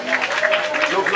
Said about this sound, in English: a round of applause for the rum chef